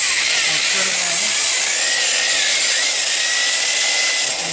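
A power buffer polishing car paint after color sanding gives off a steady, bright high whine, close and continuous throughout, with a faint low murmur underneath.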